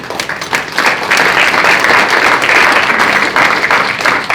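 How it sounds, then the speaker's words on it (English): Attendees at a mural unveiling in Allen Park give themselves a round of applause, loud, close, dense clapping that swells quickly and holds steady to the end. "Give your hands, yourselves a round of applause."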